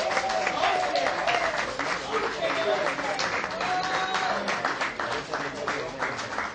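An audience applauds for the parents at a gathering, a sustained patter of clapping that runs throughout while voices and some tonal sound carry on over it.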